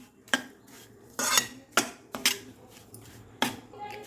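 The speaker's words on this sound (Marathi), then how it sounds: "इलायची टाकलेली सगळं आपण मिक्स करून घ्यायचं आहे" A spoon clinks and scrapes against a kadhai while a sweet mixture seasoned with cardamom powder is stirred, giving several sharp, close metallic knocks at uneven intervals with quiet gaps between them.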